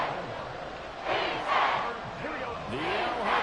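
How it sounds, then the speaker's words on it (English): A stadium crowd roars at Arrowhead in the Madden NFL 24 video game, a loud, sustained swell of cheering that surges in waves throughout and plays with no talk over it. "The Arrowhead crowd in full roar."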